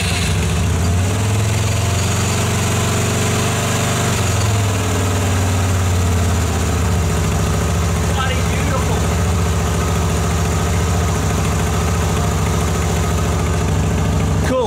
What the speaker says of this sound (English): All right, let's start the bike.